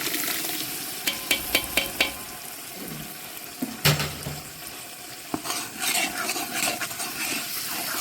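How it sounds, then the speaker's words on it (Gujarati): Tomato puree going into a hot frying pan, with close stirring scrapes, a soft sizzle and a few sharp clatters of metal utensils against the pan. "એક કિલો ટમેટાની પ્યુરી છે એ આપણે અમે એડ કરી દઈશું હવે"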